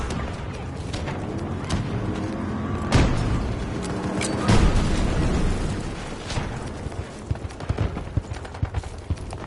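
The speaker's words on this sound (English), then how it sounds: "Tossing grenade!" Grenade blasts in a video game, two loud booming explosions a second or so apart amid continuous battle noise and scattered gunshots.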